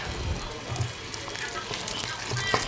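Onion and garlic sautéing in a pan for a ginataang talbos ng kamote dish with tuna, a soft crackling sizzle with small pops and brief low scrapes, steady and close.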